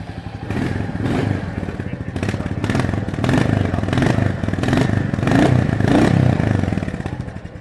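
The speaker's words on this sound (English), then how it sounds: "That's what the exhaust note sounds like." A Royal Enfield Goan Classic 350 motorcycle engine idles and blips close by, its loud, raspy slash-cut exhaust note pulsing and rising with throttle, no talking.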